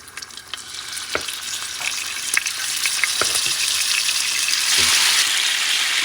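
Lamb pieces sizzle and fry in hot olive oil for a lamb stew, a steady crackling hiss that swells as more meat goes into the pan, with a few sharp pops and clinks of pieces landing.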